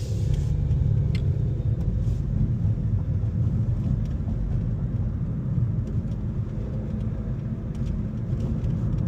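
A car drives along a city street, heard from inside as a steady, loud low engine and road rumble that holds level throughout with no talking.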